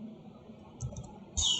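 Soft, scattered clicks from a computer keyboard as code is typed, faint and close, with a slightly louder cluster of keystrokes near the end over quiet room noise.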